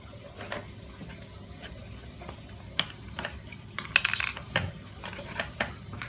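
A knife dicing food taps quietly and irregularly on a cutting board, with a few sharper clinks of utensils in a quiet room.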